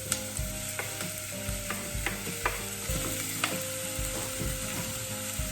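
Mixed peppers sizzle steadily in a hot pan, a continuous close crackle broken by regular scraping stirs of a utensil.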